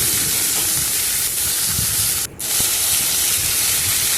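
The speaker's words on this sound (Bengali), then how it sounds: "আমি এই সবজিগুলো কেটে রাখা সবজিগুলো এর মধ্যে দিয়ে দেবো দিয়ে ভালো করে একটু নাড়াচাড়া করে একটু ভাজা ভাজা করে" Cut vegetables fry in hot oil with a loud, steady hiss that runs without a break, apart from one brief dip near the middle.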